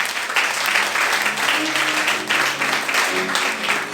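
A church congregation bursts into steady applause that fills the whole moment, dense and continuous, with a few voices carrying faintly beneath the clapping.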